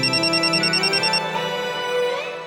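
A phone ringtone plays at home in a Marathi TV serial scene, a repeating electronic melody with a steady pulsing pattern, clear and alone without voices.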